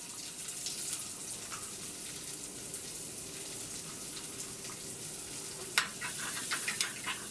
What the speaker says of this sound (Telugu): తర్వాత మిరపకాయలు తర్వాత ఉల్లిపాయలు వేసుకున్నాం